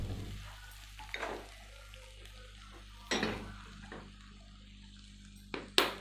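Eggs fry in a pan for an Afghani omelette, a low steady sizzle running underneath while a few sharp clinks and scrapes of utensils against the pan break in, with no voices heard.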